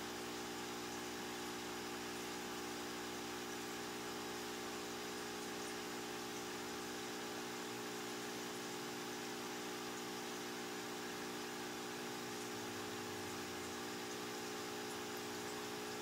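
An EZ spin pulse motor generator runs steadily at low voltage, giving a faint, even electrical hum with fixed tones and a soft low whir that holds unchanged throughout.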